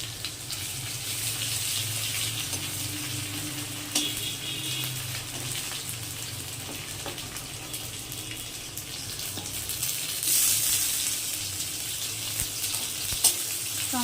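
Onions turning golden sizzle with garlic paste in a pan for a rohu fish curry, giving a steady close frying hiss with occasional stirring scrapes and light clinks.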